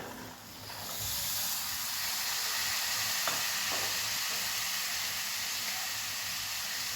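Potatoes and peas tumble into hot oil and masala for an aloo matar curry, setting off a steady, loud sizzle with stirring, and the frying hiss holds evenly throughout.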